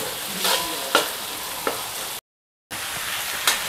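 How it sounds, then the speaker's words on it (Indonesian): Squid and shrimp frying with spices in a pan, a steady close sizzle broken by sharp stir scrapes and clacks, with a brief dropout partway through. "Jadi saya goreng seperti ini dengan bumbu-bumbu sampai masak."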